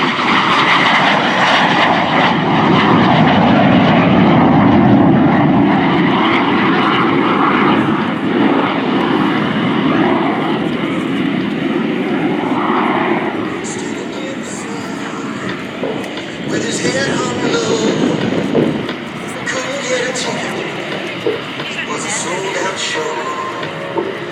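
A T-33 Shooting Star jet departs down the runway at an airshow in Texas, its loud engine roar rising and sustained throughout, easing slightly toward the end, with an announcer speaking over it.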